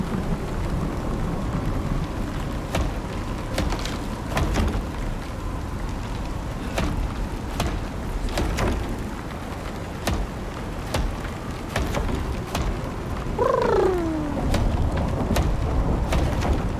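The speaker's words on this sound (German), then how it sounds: "Jetzt haben wir noch Regen." Rain falls steadily in the survival video game Icarus, a constant broad patter with scattered sharp clicks and bumps, and a brief sliding tone near the end.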